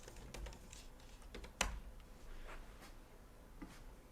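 Quiet typing on a computer keyboard in a short series of light, uneven key clicks with one sharper keystroke, close and alone with no talk.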